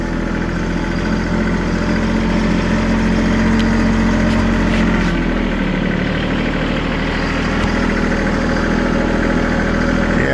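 A tractor engine idles and runs steadily at a salvage yard, a loud, close mid-pitched drone with a low throb that shifts slightly in pitch midway, no voices.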